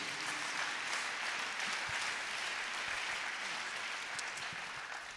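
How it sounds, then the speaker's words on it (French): A congregation applauding during a church service, steady sustained clapping from many people throughout, with the dense patter held at an even, moderate level. "Acclamons le Seigneur Jésus."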